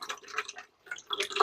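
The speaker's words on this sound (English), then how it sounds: "I get a little bit of water to come out" Water trickles and drips from a slowly opened lawn irrigation valve, faint close splashes in two short bursts separated by a brief pause.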